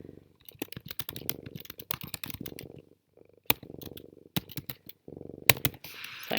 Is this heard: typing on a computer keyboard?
yes